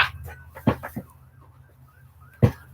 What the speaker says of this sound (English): open up the window and it's like apocalypse outside with all these sirens